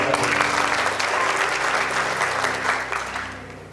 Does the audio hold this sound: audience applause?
yes